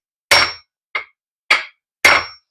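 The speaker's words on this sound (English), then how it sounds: "Hammer this thing in like this." Four sharp metallic hammer strikes driving a driveshaft center support bearing into place on a Ford Edge, Lincoln MKX or Mazda CX-9, evenly spaced with brief ringing tails, close and loud.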